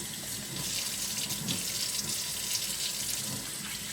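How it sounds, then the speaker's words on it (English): Tap water runs steadily into a sink as hands are washed in a home kitchen, a continuous close hiss and splash with slight fluctuations and no voices. "Wash my hands again."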